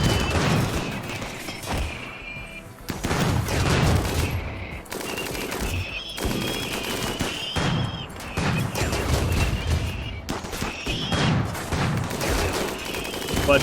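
Dense, sustained bursts of turret gunfire from slug turrets in the RimWorld video game, loud and continuous in rapid volleys with brief gaps between clusters, alone without talk.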